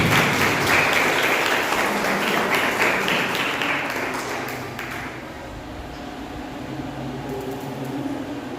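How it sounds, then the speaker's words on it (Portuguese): A crowd claps loudly for several seconds, then the applause thins and fades into a quieter, hollow room background. "Uma salva de palmas para todos."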